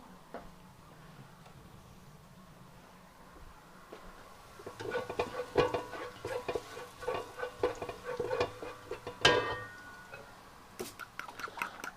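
Metal utensil scrapes and clatters in a pan with rhythmic stirring strokes over a soft sizzle, starting quietly then growing busier and louder.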